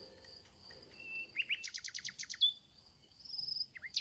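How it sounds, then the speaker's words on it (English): Bird singing sound effect in a story, a bright close run of chirps and quick trilled notes, rising to a rapid burst in the middle and then sparser whistles, with no talk. "The cute bird began to sing beautifully."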